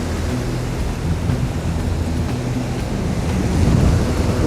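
Sea waves breaking at the surface, heard while fishing with a surface lure: a continuous loud wash and rumble with wind buffeting the microphone, swelling stronger toward the end, with no voices.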